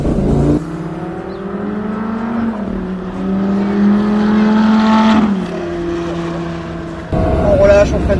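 Lamborghini engine accelerating hard on a track, pitch climbing through gears with brief drops at shifts, loud and close, with a voice speaking over it.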